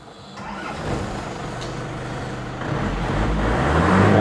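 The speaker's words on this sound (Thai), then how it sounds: "เดี๋ยวมาสตาร์ทรถยนต์กันหน่อยครับ" A 1992 Isuzu TFR SLX pickup, a 90 hp special edition, starting up: a starter whirr followed by the engine catching into a rising, steady rumble that grows louder toward the end.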